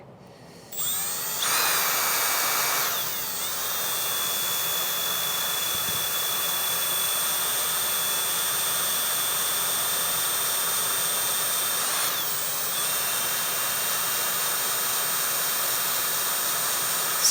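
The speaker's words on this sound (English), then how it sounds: "So we'll go ahead and use our step bit drill again." A step bit drill bores through thick plastic with a steady high-pitched whine that holds for the whole stretch, loud and close, with a brief change in pitch partway through.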